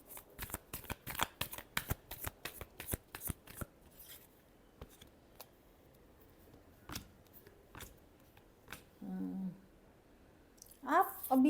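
Tarot cards are shuffled in a quick rhythmic riffle of sharp snaps for several seconds, followed by scattered single card taps and a brief voice near the end.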